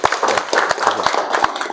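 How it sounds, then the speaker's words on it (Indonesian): Applause in a classroom, a short burst of close, brisk hand clapping from a small group, fairly loud and continuous. "berikan aplaus"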